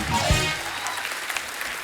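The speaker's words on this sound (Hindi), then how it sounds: "जोरदार तालियां हो जाएं हमारे चारों धुरंधरों के लिए।" Studio audience at a comedy talk show applauds four stand-up comedian guests, a loud, full burst of clapping that opens with a strong swell and settles into steady applause, with a voice briefly over it.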